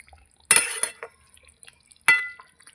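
Metal spoon scraping and clinking against a pan while chicken stomach curry is stirred after ghee is added, two short bright bursts of scraping separated by quiet, close and fairly loud.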